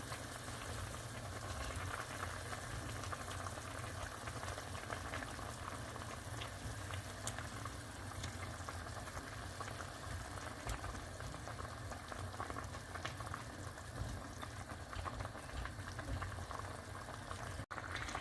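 A steady, bubbling simmer of thick tomato paste sauce in a large pot, continuous and close, with no voices.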